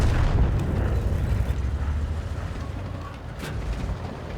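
Loud, dense rumbling explosions from artillery fire in the video game World of Tanks, continuous low booms with a sharp burst near the end.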